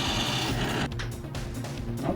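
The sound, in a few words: drilling a hole in a metal upright with a drill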